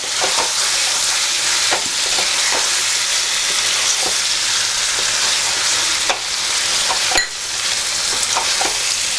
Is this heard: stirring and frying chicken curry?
yes